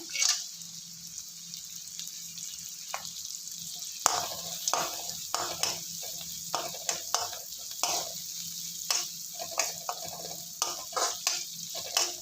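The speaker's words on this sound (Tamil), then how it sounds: "ஒரு அஞ்சு நிமிஷம் நல்லா பொரியட்டும் அதுலேயே முந்திரி போடுறேன்" Pongal prasadam frying in a pan with cashews going in: a steady close sizzle of oil, broken by repeated stirring scrapes and clinks, no talk over it.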